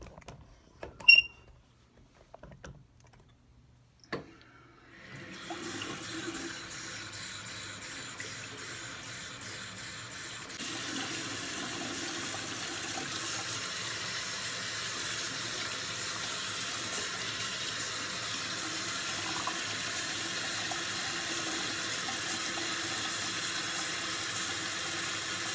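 Hands are washed under a running tap: a few faint clicks and knocks, then the faucet gushes steadily, growing louder and fuller partway through as the water hits hands and sink.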